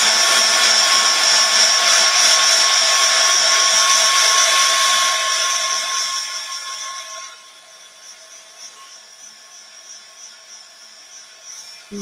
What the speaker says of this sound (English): I'm deliberately keeping my heat gun moving, because that's going to allow me to make sure that the varnish doesn't bubble